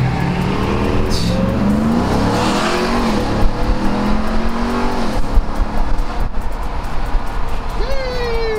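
A car revving and accelerating in an informal street race, a loud close engine note rising and falling through gears with a wavering pitch, heard under excited shouting and talk.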